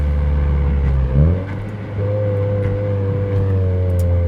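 A Honda FK7 hatchback fitted with an HKS aftermarket muffler, engine braking from about 3500 rpm, heard from inside the cabin as a loud, steady exhaust drone whose pitch shifts and then settles into a sustained hum.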